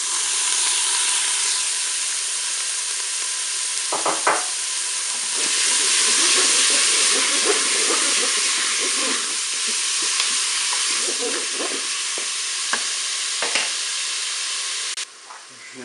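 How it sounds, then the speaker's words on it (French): Minced meat hits a hot Cookeo pot with a loud, steady sizzle and hiss, punctuated by a few clanks and scrapes of stirring, with no talking. "Je vais ajouter ma viande hachée."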